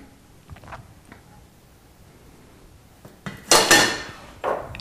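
Olive oil swirled in a hot saute pan, heard as a few soft metallic scrapes and clinks of the pan, with one louder burst of sizzle or clatter near the end, close and fairly quiet.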